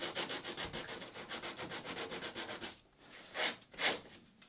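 A scrap of sanding belt is rubbed by hand over the wooden corners of a lashing rail on a Catalina Wherry rowing boat, a steady rapid back-and-forth scrubbing that ends in two slower, separate strokes, close and alone.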